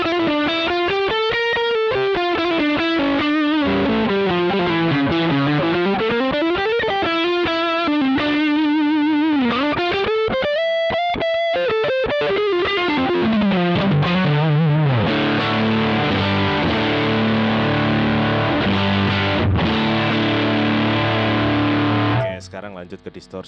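Electric guitar through a distortion stompbox with the cab simulator switched on, a loud, continuous distorted line with sliding bends and sustained chords, cutting off near the end.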